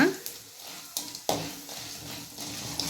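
Urad dal, coriander seeds and cumin frying in oil for a manathakkali keerai chutney, giving a steady close sizzle broken by a few sharp stirring scrapes against the pan.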